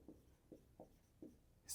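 Pen writing on paper at a desk during a maths lesson: four soft, evenly spaced scratchy strokes, quiet and close, followed by a brief brighter rustle at the end, with no speech.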